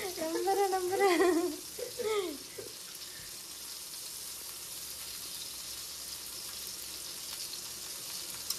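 Chicken frying in a pan, a soft continuous sizzle that carries on steadily after someone briefly talks at the start.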